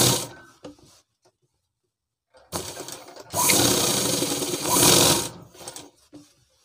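Sewing machine stitching a girls' school dress, bursts of fast mechanical whirring separated by pauses, loudest in the middle, close to the microphone.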